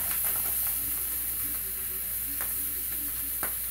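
Hot dogs sizzle in melted butter in a pan, a steady close frying hiss with faint crackles and a few soft scrapes of a utensil, and no talk.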